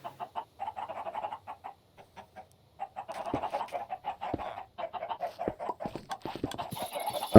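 Chickens in the video game Minecraft cluck in quick, clipped repeated bursts, several birds overlapping in a steady stream of soft clucks with brief pauses, alone without talk.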